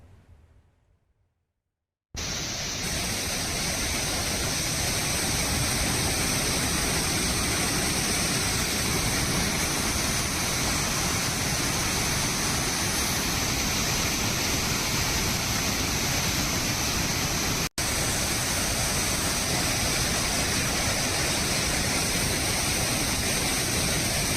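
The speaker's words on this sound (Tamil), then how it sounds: "கனமழை காரணமாக கோவை குற்றாலம் அருவியில் கடும் வெள்ளப்பெருக்கு ஏற்பட்டுள்ளது." Kovai Kutralam waterfall in flood after heavy rain, a loud, steady, broadband roar of rushing water that runs unbroken after a brief quiet opening, with no voices.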